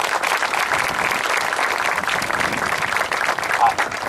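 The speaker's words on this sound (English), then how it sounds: "Can we give her another round of applause?" A ceremony audience at a War of 1812 press conference breaking into applause, dense clapping from a crowd that holds steady for the whole few seconds.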